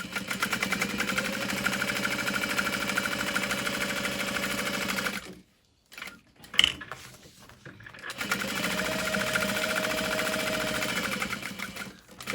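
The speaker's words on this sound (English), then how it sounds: "So what I'm just gonna do is baste along the outer edge using a really long stitch length," A sewing machine runs steadily, basting fusible foam for a Divina tote with a long stitch, in two sustained stretches split by a brief pause and a few handling knocks. It sounds close and loud, with no talk.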